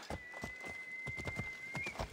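Horse hooves galloping in the game Assassin's Creed Odyssey, a quick steady clip-clop of hoofbeats at close range, accompanied by a faint sustained tone.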